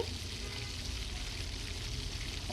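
Masala fries in oil while being stirred, giving a steady, close crackling sizzle that holds evenly throughout with no talk.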